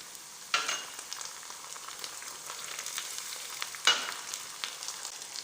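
Tomatoes and coriander frying in oil for a potato poori masala: a steady close sizzle with two sharp crackling bursts as ingredients hit the pan, then a continuous hiss.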